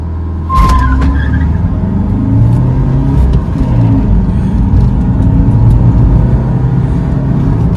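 Kia Seltos and Honda WR-V in a drag race, with a sudden launch and a sustained loud engine roar and tyre noise rushing past, steady and close for several seconds.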